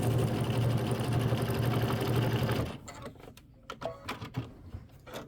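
A sewing machine stitches binding onto a Kimberbell Cuties quilted table topper, running steadily and loud for under three seconds, then stopping; quieter handling clicks and fabric rustles follow.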